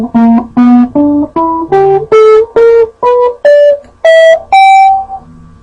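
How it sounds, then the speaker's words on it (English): An electric or acoustic guitar plays a minor pentatonic blues scale as about ten clear single notes, stepping steadily upward in pitch at an even pace, each ringing briefly before the next. "the minor pentatonic blues scale"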